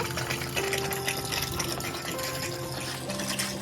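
Water pours in a steady, continuous gush for several seconds, filling a container at close range with no voices over it.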